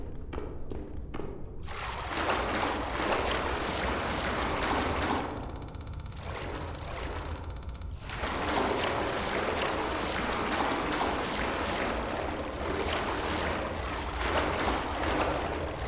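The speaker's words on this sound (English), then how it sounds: "We got to the sewer water." Sewer water rushing steadily in an underground tunnel during a night shift, a continuous broadband wash with a few dull thumps near the start and a brief dip in the middle.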